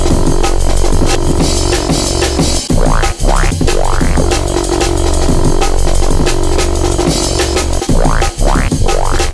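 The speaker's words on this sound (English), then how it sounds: "Now I also found a cool synth bass preset," A synth bass preset plays programmed MIDI notes in a dense electronic loop, with steady beats, sweeping rising tones and a thick low end, loud and continuous with no voices.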